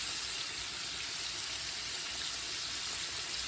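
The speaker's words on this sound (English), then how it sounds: "our ribs are frying up nicely" Steady, dense sizzling of ribs frying in hot oil, continuous and even throughout, with no talking.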